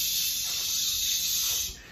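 A voice imitates a toy fire truck hose spraying water, a sustained breathy hiss lasting about two seconds, close and fairly loud, fading at the end.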